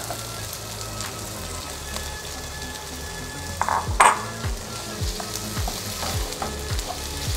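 Crab sticks sizzle in a pan with softened onion, a steady close crackle of frying with occasional utensil clinks and scraping as they are stirred.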